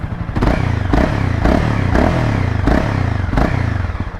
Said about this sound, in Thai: เสียงตอนเบิ้ลเครื่องที่ยังไม่จูนนะ